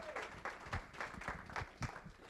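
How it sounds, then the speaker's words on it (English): A small audience at a public officials training session claps briefly and faintly, sparse individual hand claps heard from a distance in a quiet room. "Yes, round of applause."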